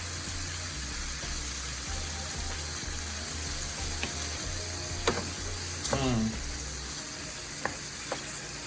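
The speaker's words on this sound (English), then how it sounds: "Let me just let you hear a little bit of the sizzle." Steady loud sizzling of vegetables frying in a pan, with a few clinks and scrapes of a utensil near the end.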